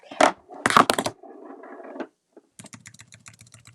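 A burst of clicky computer-keyboard typing, close and fairly quiet, comes after a few louder knocks and a muffled rustle, with no talk.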